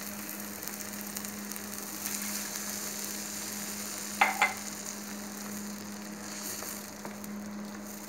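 Mashed potatoes with half a glass of milk cook in a pan while being mixed, giving a soft, steady sizzle with low hum and a couple of brief utensil knocks midway, no talking.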